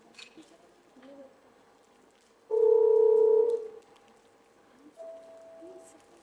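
A telephone ringing tone during a Sundanese-language student theatre stage performance, one steady loud tone lasting about a second followed later by a fainter shorter tone, with quiet stage noise around it.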